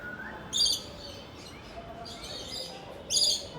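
Many birds call inside a zoo bird house in Indore, with bright chirps bursting in clusters at intervals and fainter calls scattered between them over a low hum of room noise.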